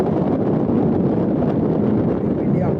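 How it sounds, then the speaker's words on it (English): Wind on a hilltop about 200 metres up above farmland, a steady loud roar of microphone wind noise with no letup. "Pretty windy up here, as you can imagine."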